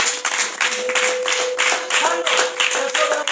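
People clapping at a family Christmas gathering at home, a steady, lively round of applause with rhythmic bursts of claps, fairly close, as a voice speaks briefly over it.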